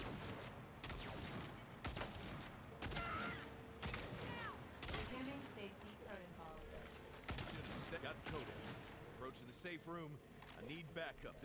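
Repeated gunshots in Saints Row (2022) ring out in sharp, closely spaced bursts over engine and mechanical noise, with someone talking over much of the firing.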